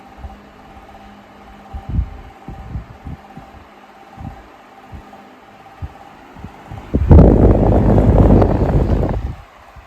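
A 1990s Home-Line 16-inch oscillating fan running on medium gives a soft airy whoosh with irregular low thumps and rattling, then swells into a louder, rougher rush near the end.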